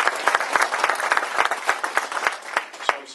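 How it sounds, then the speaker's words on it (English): A crowd applauds steadily for John Dennison at Jim Harbaugh's introduction as Michigan head coach, with dense, even clapping near and loud throughout and no break. "John, round of applause."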